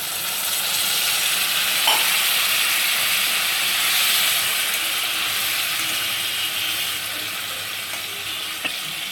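Egg curry (dim jhika) with a little water simmers and sizzles steadily in a pan on a gas stove, a close, continuous hissing bubble without speech.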